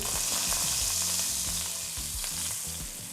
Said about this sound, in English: we're gonna stir this for about 15 minutes, maybe 20, until this roux turns like a copper color